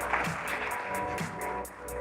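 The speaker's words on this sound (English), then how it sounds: "Can you please give a big round of applause to the Minister?" An audience at a startup awards ceremony claps for a government minister, a steady wash of applause holding at moderate volume for about two seconds.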